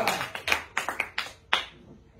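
A church congregation claps in a quick, uneven run of about eight sharp claps that stops near the end, fairly close and loud.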